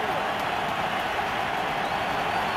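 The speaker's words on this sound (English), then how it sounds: "Bronco crowd turns it up a notch" Denver Broncos stadium crowd roaring on third down during a Lions versus Broncos football game, a steady dense wash of cheering noise filling the whole stretch without breaks.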